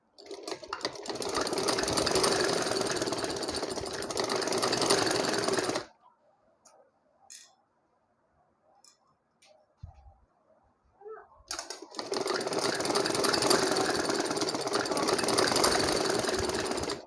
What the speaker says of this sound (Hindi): इस तरह से कपड़ा रख के इस तरह से एंड स्टिचिंग कर लें